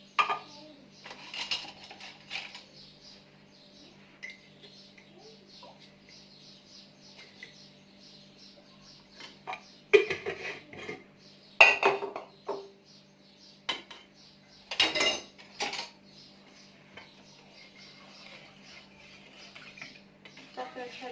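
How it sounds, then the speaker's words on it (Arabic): Cake batter for flan is stirred in a bowl to break up lumps, with intermittent clinks and scrapes of a utensil against the bowl over a faint steady hum. "صافي نحركو هكذا مزيان حيت هذا كيبقى فيه دوك الكويرات"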